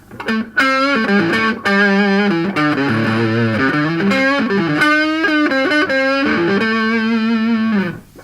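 Overdriven electric guitar through a Tube Screamer stacked with a Classic Tube overdrive pedal, a crunchy gain tone, plays a singing lead phrase with bends and sustained notes, loud and close.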